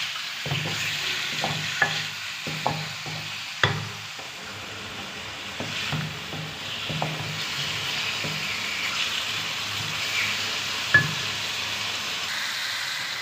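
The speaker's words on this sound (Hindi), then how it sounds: "देखिए चिकन बहुत अच्छे से मैंने लहसुन में फ्राई कर लिया है।" Chicken sizzles and fries with garlic in a pan with steady crackling, broken by scraping stir strokes and occasional clanks of a utensil; no talking.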